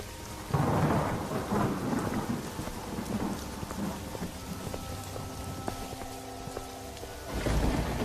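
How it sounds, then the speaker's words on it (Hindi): Heavy rain pounds down while thunder rumbles, with low booming rolls near the start and again at the end over the constant loud downpour, and no voices. "तभी जोर जोर से बारिश शुरू हो जाती है।"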